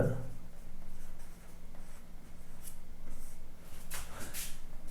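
Pen or pencil writing out a class 9 geometry solution on paper, continuous scratchy strokes close up with no talking.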